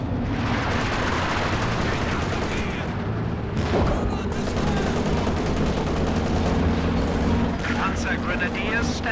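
Anti-tank gun fire in the video game Company of Heroes 2 rings out amid a dense, loud battle din, with one sharp heavy blast near the middle standing out from continuous rumbling gunfire.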